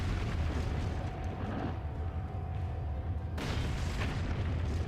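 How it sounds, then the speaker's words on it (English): A giant tearing the roof off a house in Resident Evil 4, heard as a steady deep rumbling roar of crashing debris that swells into a louder burst of destruction near the end. "I don't think I've ever seen him tear the roof off like that before"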